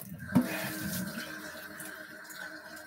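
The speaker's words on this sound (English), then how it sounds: "what I want to do is throw in some water." Water pours into a cooking pot for corn chowder, a short, soft splash followed by a gentle, steady stream, fairly quiet and without talk.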